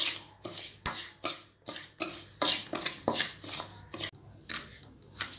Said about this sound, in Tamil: இப்போ அந்த 1 கப் தினையை நான் கடாயில் போட்டு வறுத்துக்க போகிறேன்.